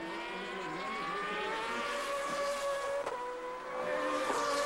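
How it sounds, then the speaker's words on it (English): GP2 race car with a 4-liter V8 and 8-into-1 exhaust at Valencia in 2007, holding a steady, loud, high-pitched engine note with rising harmonics and a brief dip near the end, no talk. "That distinctive engine note, these 4-liter V8 engines, the 8-into-1 exhaust system"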